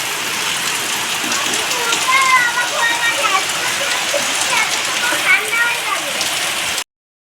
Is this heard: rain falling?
yes